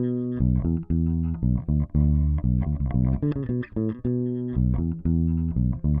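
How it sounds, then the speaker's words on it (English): Heavily distorted bass guitar playing a melodic chorus riff in the style of a rock song, with choppy, punchy repeated notes and short gaps, loud and alone. "it's played on bass, soaked in distortion, and it sounds amazing"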